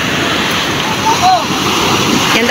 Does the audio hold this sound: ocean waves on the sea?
yes